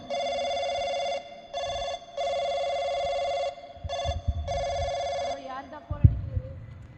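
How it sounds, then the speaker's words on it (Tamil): A telephone rings in a home during a Tamil comedy skit, sounding in four or five steady electronic bursts with short gaps between them, followed by faint handling noise as the phone is picked up. "யார் ஃபோன் அடிக்கான்னு பார்ப்போம்."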